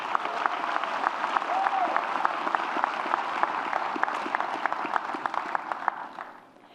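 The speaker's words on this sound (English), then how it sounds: "I'd say that deserves a round of applause to thank them." Audience clapping at a Black alumni celebration, a fairly close, moderately sized crowd with distinct individual claps audible in the mix, tapering off at the end.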